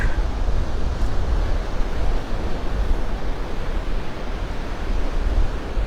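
Surf rolls in continuously on Vanderbilt Beach in North Naples, Florida, a broad steady wash of waves mixed with wind buffeting the microphone.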